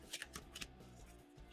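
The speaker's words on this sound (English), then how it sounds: "Shuffle those back in." Tarot cards being shuffled during a live reading, a few quick papery riffles and flutters close by, with no talking over them.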